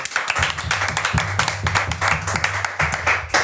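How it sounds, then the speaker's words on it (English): A small group claps for a guest on a football podcast, the sharp hand claps loose and uneven, close to the microphone, with a low hum or voices murmuring underneath. "Can we get a round of applause for Mo?"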